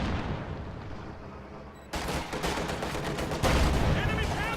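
Tank cannon and gunfire against a T-34 in a multiplayer war game, a quiet lull broken by a sharp blast and then dense rapid fire, with a voice talking over it.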